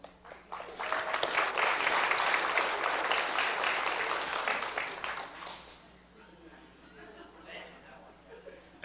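An audience at a retirement event applauds as the next speaker is welcomed, with a loud burst of many hands and light chuckles that swells, then fades after about five seconds into quieter room sound and a voice.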